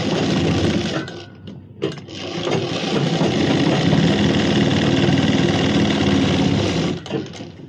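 A sewing machine runs in steady bursts while stitching a suit, its rapid mechanical whir broken by a few short pauses.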